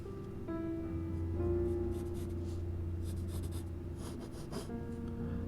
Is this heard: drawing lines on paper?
yes